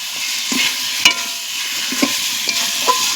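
Mango chicken curry is sautéed over a wood fire, with a steady sizzle and several sharp scrapes and knocks of a spoon against the pot, close and fairly loud, no voices.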